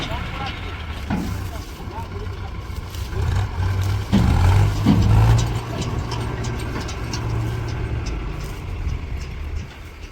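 A tractor engine runs on a farm, a low steady rumble that swells briefly midway, with people talking over it throughout.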